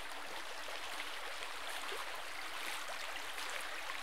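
Water flowing in a stream after a storm, a steady, even rushing wash heard close and continuous, with no voices.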